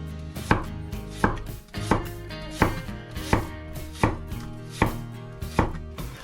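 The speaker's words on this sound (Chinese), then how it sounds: "然后用刀先切成块，再切成菱形片" A knife cutting peeled Chinese yam into chunks and then diamond-shaped slices on a board, about ten crisp, evenly spaced chops, close and clear with no talking.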